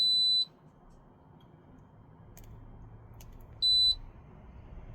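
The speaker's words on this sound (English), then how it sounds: "It made a beep when I've just plugged it into a socket." Two short, clear electronic beeps from a Waeco WAC2600 air conditioner unit, plugged into a socket, sound a few seconds apart over a faint, quiet background hum.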